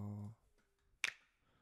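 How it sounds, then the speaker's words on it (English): A single crisp finger-snap sample plays in Logic music software, sharp and close, following a short low tonal note and near silence. "we're going to also use the snaps in Logic"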